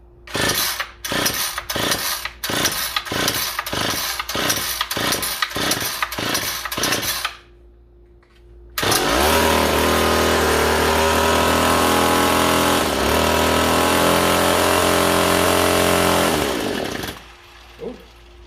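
Two-stroke engine running on 1000:1 fuel mix, first several sharp rhythmic pull-start bursts, then after a short pause it fires and runs loud and steady on half choke for about eight seconds before cutting off.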